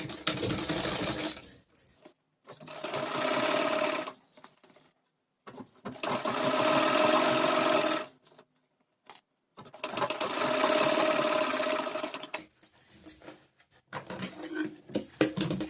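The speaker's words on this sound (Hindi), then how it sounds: "अब हम इसे टर्न करेंगे, नीचे के फैब्रिक को भी टर्न करेंगे और सिलाई करेंगे।" A sewing machine stitches a collar onto a kurti fabric in three sustained motor runs of about two to four seconds each, separated by short pauses, loud and close with no talking.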